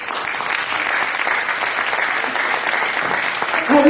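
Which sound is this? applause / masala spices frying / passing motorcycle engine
applause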